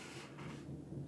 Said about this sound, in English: We literally just had lightning and then thunder.